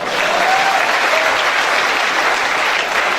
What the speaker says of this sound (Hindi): सर के एक बार जोरदार तालियां हो गई।